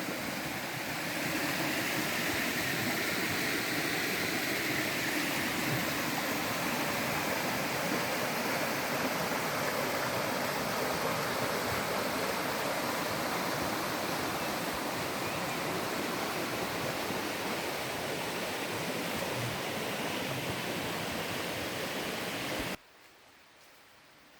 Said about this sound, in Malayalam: വറ്റാത്ത തോടാണിത് പുഴ പോലത്തെ വലിയൊരു തോടാണ്